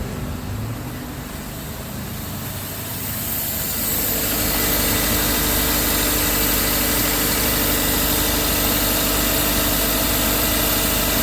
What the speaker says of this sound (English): But everything's working now, and the compressor is running.